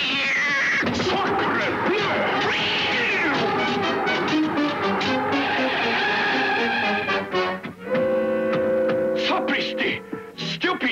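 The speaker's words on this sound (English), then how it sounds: "Stupid cat!" A cat meows and yowls in a drawn-out caterwaul through a busy animated-film scene, mixed with loud orchestral music and bustling effects.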